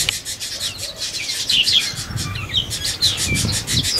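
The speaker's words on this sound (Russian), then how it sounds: "Птички веселые." Several small birds chirp and tweet in quick bursts, with a soft rustling, scraping noise underneath.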